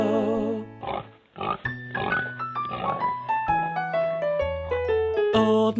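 A singing voice imitates a pig's oinking in a children's Old MacDonald nursery rhyme, with the oinks sung as short repeated syllables over a bouncy, melodic backing track.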